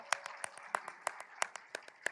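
A church congregation applauding the choir after a hymn of praise, with faint scattered handclaps in a quick uneven rhythm, soft and distant.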